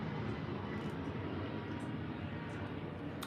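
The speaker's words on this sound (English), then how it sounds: "However, that is a plane." Airplane passing overhead, a broad steady roaring rumble with a faint muffled voice mixed in beneath it.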